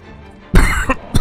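Two sharp coughs from a person gaming at a computer, close and loud, the first longer and the second a brief burst.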